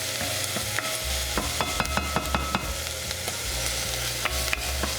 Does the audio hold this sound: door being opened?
no